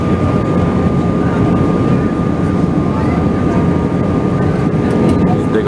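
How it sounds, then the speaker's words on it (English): Allegiant Air airliner in flight while banking through a U-turn, with a steady loud cabin drone of the engines throughout and a person talking faintly beneath it. "Don't you love it when an airplane makes a U-turn?"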